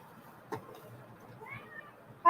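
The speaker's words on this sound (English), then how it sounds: "That's my cat son crying." A cat cries out over a faint background hiss, with a short call early on and a rising meow near the end that swells loudly.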